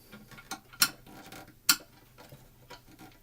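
Small metal bolts from a Bush DAC90a radio clink and rattle as they are sorted by hand, with two sharp louder clinks among quieter scattered ticks, close and fairly faint.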